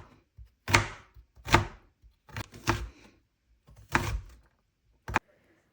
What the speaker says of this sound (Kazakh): Сәбізді де еттің көлемінде етіп турап шығамыз.